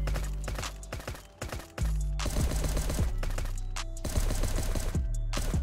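Rapid gunfire rattles continuously as a turret is shot apart during a raid in the Last Day on Earth: Survival video game, with dense overlapping bursts and metallic impacts, loud and without speech.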